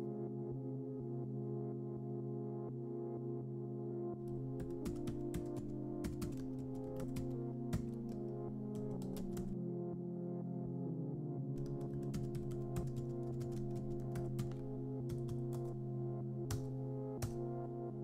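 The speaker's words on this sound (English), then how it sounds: "Start typing and see your key presses appear on the screen." Keystrokes on a computer keyboard under Windows, typed in irregular clicky bursts and short runs over a steady humming tonal background, with a pause before the typing resumes.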